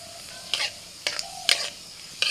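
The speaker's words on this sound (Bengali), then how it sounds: "কড়াইতে সরষের তেল দিয়ে ওর মধ্যে ফোড়ন দিচ্ছি গোটা জিরে," Hot mustard oil sizzles steadily while whole cumin seeds crackle in short bursts in a kadai, each flare of spitting rising sharply and fading, close by.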